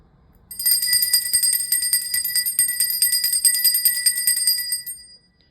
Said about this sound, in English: Now I'm going to ring the bell and do the closing prayer.